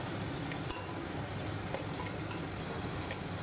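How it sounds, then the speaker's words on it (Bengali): Chicken and chopped vegetables frying in a pan and being stirred: a steady, close sizzle runs throughout with occasional soft scrapes and clinks from the stirring. "এবার তার মধ্যে অ্যাড করুন ধুয়ে রাখা চিকেন। তাই দিয়ে একটু নাড়াচাড়া করেই তার মধ্যে মিশিয়ে দিন"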